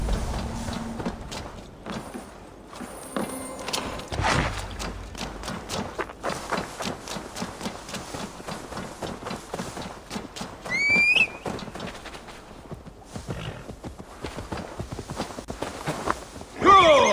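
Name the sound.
horse hooves and neigh in Assassin's Creed Valhalla video game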